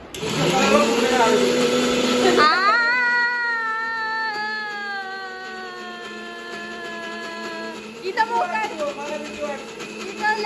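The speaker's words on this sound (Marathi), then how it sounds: "अरे मिक्सर खराब होऊन जाईल" A kitchen mixer grinder whirs loudly, its motor pitch rising and settling into a steady whine, with a voice and clatter near the end.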